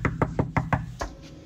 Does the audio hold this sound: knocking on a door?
yes